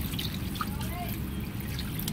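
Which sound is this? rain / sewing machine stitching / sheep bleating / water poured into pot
water poured into pot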